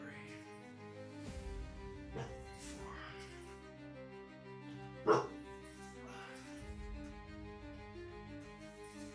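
A dog gives a few barks, one sharp loud bark standing out among softer yips, over steady background hum and a low continuous tone from a workout setting.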